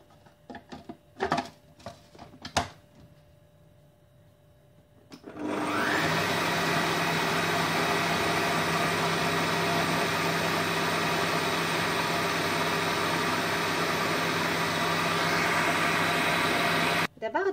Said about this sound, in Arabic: عندنا 4 ديال البيضات، غنزيدوهم كاملين وغنعاودو نضربوهم مع بعض.